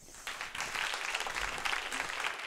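Audience applause at a 2018 youth speech competition, a dense, steady wash of clapping that rises after a brief moment and holds at a moderate, slightly distant level for the whole stretch.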